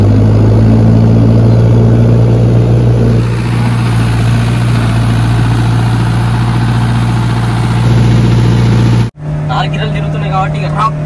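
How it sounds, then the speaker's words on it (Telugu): Mahindra Thar driving through deep sand with wheels spinning, a loud steady engine drone under continuous talking, cutting out abruptly near the end. "గిరలు తిరుగుతున్నాయి కాబట్టి ఇక రాప వెళ్ళిపోతుంది బండి అయితే"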